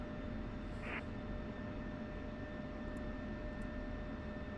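Steady low whine and rumble of an F-16 Viper's jet engine idling while taxiing in DCS, a constant droning tone with faint high tonal lines, alone without voices.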